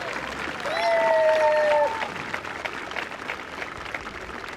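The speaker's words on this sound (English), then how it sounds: "How about another round of applause for Joseph?" Moderate applause at an eighth-grade promotion ceremony on a June afternoon, swelling briefly with a steady tone over it, then settling into softer, thinner clapping.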